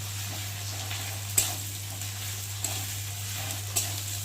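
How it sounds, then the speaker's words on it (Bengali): Garlic fries with onions in a pan for a fish curry, producing a steady close sizzle with a few sharp scraping stirs of the spatula and a constant low hum underneath, no talking. "এর মধ্যে একটু রসুন দিয়ে দেবো। ভালো করে একটু ভেজে নেবো রসুনটা"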